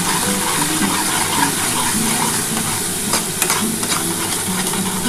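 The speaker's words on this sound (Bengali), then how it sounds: "এবার ভালো করে এই মশলাটা কষিয়ে নিতে হবে।" Spice paste with Kashmiri chili powder sautéing in oil, a loud, dense, continuous sizzle and hiss close up, with a few faint stirring scrapes and no voices.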